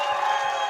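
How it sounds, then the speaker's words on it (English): A dense crowd roars in sustained cheering for a birthday, a steady wash of many voices with no gaps across the short moment. "Dang, they were really excited about that. That cheer went on forever."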